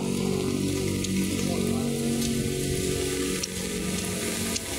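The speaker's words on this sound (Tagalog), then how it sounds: "Ito talaga na yung tunay na ulan talaga." Steady rain patters on a hard surface throughout in Dasmariñas, Cavite, a constant broadband hiss with no voices.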